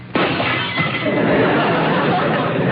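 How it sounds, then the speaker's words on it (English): Glass shatters in a sudden loud crash as a broadcast sound effect on an old radio show, with a dense spray of breaking shards continuing for the rest of the clip and no voice over it. "And a shattering of glass."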